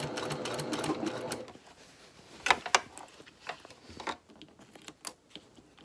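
A sewing machine stitches a lavender cosmetic tote, a rapid close whirring run at the start, then scattered clicks and handling taps of fabric as it pauses and restarts.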